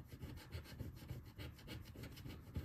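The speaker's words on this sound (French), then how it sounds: "gratte avec mon petit jeton, tu vas voir. Ça gratte très vite." A small token rubs quickly across a lottery scratch card, giving a close, faint, rapid rasping scratch in a steady back-and-forth rhythm.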